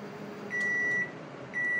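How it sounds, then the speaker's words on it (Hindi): Microwave oven, model DW 560 INV, giving two clear high-pitched electronic beeps, each about half a second long and a second apart, over a low appliance hum. "ये जब स्टार्ट होता है तो इस तरह की बीप देता है"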